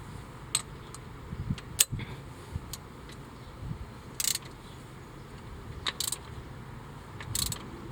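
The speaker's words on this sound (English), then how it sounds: "we want to get our ratchet and we want to tighten it down, compress that a little bit" A hand ratchet tightens a part on a Yamaha jet boat, giving a few sparse sharp clicks and metallic ticks up close over a quiet background, with no speech.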